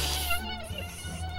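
A mosquito buzzes in flight with a steady, thin, high whine, close and continuous with slight wavering in pitch, no voices present.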